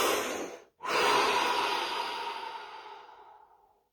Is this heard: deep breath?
yes